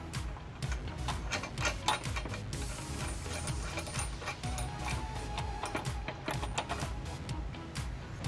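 A ratchet tightens a flange nut on a trailer hitch bolt under a Honda CR-V, giving quiet, rapid clicking bursts in a steady rhythm, faint and fairly close.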